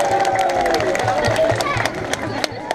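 A crowd at a safari park sea lion show cheers and claps for a sea lion, scattered claps and cheers rising over a steady murmur, with some voices in the mix.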